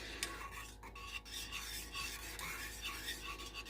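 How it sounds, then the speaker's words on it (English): A spoon stirs and scrapes the bottom of a pot of homemade cream of chicken sauce, giving a steady, close, rasping scrape that continues throughout with no talking. "You want to keep stirring it like this. Keep scraping that bottom to make sure that you don't have anything sticking."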